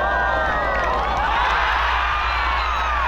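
A golf gallery roars and cheers at a women's tournament after a 154-yard 8-iron shot drops into the hole, a loud, sustained crowd whoop with shouts over a steady low hum.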